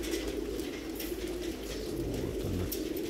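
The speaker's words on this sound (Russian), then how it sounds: "Голуби там носятся." Soft pigeon cooing over a constant low outdoor rumble, the calls of crested pigeons blending into steady background noise with no talking.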